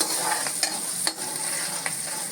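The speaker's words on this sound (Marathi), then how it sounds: "ही लसूण ही अगदी लाल बुंद करायची" Garlic fries in a pan over low gas until red, giving a steady close sizzle with occasional stirring scrapes throughout.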